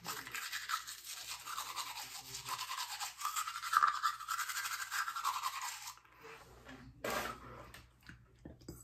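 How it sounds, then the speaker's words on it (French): Teeth brushed with a toothbrush and toothpaste, a dense continuous scrubbing that runs steadily for about six seconds, then stops, leaving a quieter pause with one more brief scrub near the end. "on y va pour le huitième brossage"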